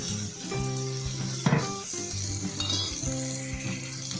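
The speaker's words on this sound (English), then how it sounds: "Turn the heat up to medium for a minute and stir everything well." Chopped tomatoes sizzling in a pan for homemade tomato chutney, stirred with a utensil that scrapes and clinks now and then, with a sharper burst of sizzle near the middle and a tonal hum underneath.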